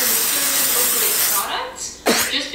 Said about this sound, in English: Setting spray is the Melanie Mills Super Light Long Lasting Setting Spray.